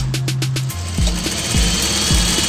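A sewing machine stitches the yoke of a simple pleated salwar, running loud and close in short bursts with brief pauses and clattering needle strokes, with no voices.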